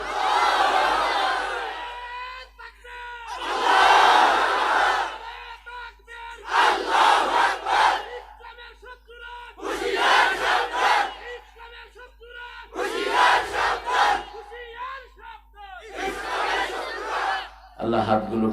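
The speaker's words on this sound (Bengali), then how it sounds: "জোরে জোরে তাকবীর দেন" A large crowd at an Islamic sermon gathering shouts a takbir chant in about six loud, rhythmic bursts, each separated by a short quiet pause.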